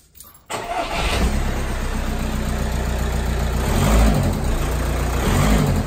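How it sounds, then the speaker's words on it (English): An Audi A4 Cabriolet 2.0 TDI diesel engine starts up and settles into a steady idle, with a faint rhythmic ticking from noisy hydraulic lifters riding on the engine note in time with RPM. "can hear a second order ticking there in line with the uh, engine RPM"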